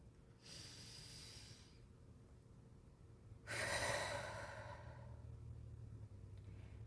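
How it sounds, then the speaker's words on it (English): A person takes a slow deep breath, a soft inhale followed by a stronger, longer exhale, close and quiet over a low background rumble. "now take a deep breath with me"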